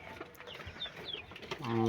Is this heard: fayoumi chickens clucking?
yes